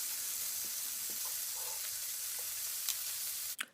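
Shrimp sizzle steadily in a hot frying pan while being turned for seafood mac and cheese, a continuous close hiss with a few faint clicks and a brief louder clatter near the end; no talking.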